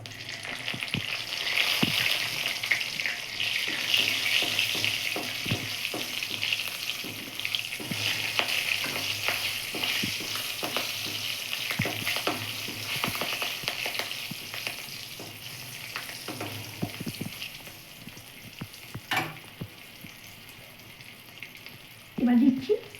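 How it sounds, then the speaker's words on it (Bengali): Dried and green chillies sizzle in hot oil in a frying pan, a continuous close hiss with scattered pops and crackles, a few louder stirring clatters near the end. "এবার আমি শুকনো লঙ্কা কাঁচা লঙ্কা দিচ্ছি।"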